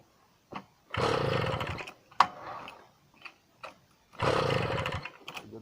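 A Tomos moped engine, running rich after rejetting from a 60 to a 55, fires in two loud, raspy revving bursts separated by sputters and quiet gaps, close up.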